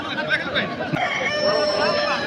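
A large white rooster crows amid a busy crowd of chattering voices and other fowl clucking at the Balrampur poultry market, with people talking nearby.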